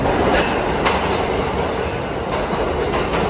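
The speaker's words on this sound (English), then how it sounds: "there's a train coming" An arriving R68 subway train rumbles loudly nearby, wheels grinding and faintly squealing on the rails, with a steady roar throughout.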